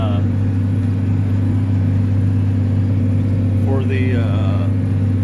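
A John Deere tractor pulling a heavy disc harrow through a field during spring tillage, its engine droning steadily and loudly throughout with a constant low hum, while a voice briefly cuts in over the noise.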